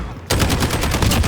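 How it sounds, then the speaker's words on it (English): Rapid sustained automatic gunfire from enemies shooting in the video game Call of Duty, a loud dense stream of evenly spaced bursts starting abruptly and continuing without pause. "people are shooting at you, and because you know it's Call of Duty, this is what happens"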